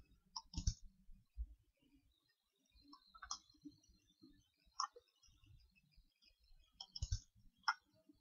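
A computer mouse clicks sharply several times in a quiet room during CAD drawing work with hatches and line thicknesses. The isolated, crisp clicks fall irregularly, some in quick pairs, close to the microphone.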